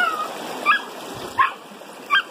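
A German terrier out in the bush for the first time gives three short, sharp yips or whimpers spaced about evenly apart, moderately near, over a faint outdoor background with no talking.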